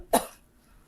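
A single short, sharp human cough up close, one quick burst that fades almost at once into near silence.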